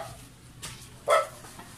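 A dog gives two short barks outdoors in Cavite, the second louder and sharper, fairly near with a quiet background.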